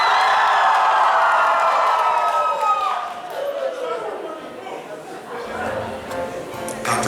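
Audience at a live concert in Moscow roars, whoops and cheers loudly at first, then the noise settles into scattered shouts and crowd chatter.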